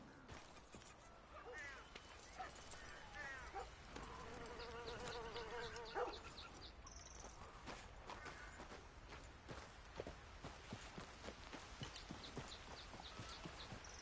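Horse hooves clip-clopping in the video game Red Dead Redemption 2, a quiet steady rhythm of hoofbeats under buzzing insects and ambient outdoor noise, with brief voices in the background.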